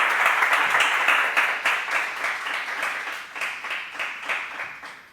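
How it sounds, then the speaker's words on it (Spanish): Warm applause from an audience greeting a guest journalist, many hands clapping in a fairly even rhythm that gradually fades and thins toward the end. "Demos la bienvenida con un cordial aplauso a la licenciada Natalia García"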